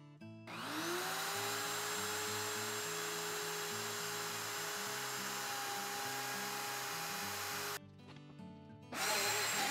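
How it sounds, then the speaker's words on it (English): A router with a half-inch straight bit on a circle-cutting jig cuts a wood circle: a loud, high steady whine spins up and holds, briefly cuts out near the end, then resumes. "watch me cut this circle with this jig and this half inch straight bit"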